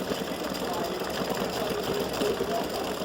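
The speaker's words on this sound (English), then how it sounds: "it's stitching just like the pendant did" Embroidery machine stitching freestanding-lace St Patrick's Day hat earrings, a fast, even mechanical chatter running continuously and close, with a voice speaking over it.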